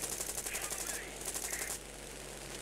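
Rapid rattling machine-gun bursts in War Thunder amid an air battle with an Airacobra fighter, two quick strings of fire in succession over a steady engine drone.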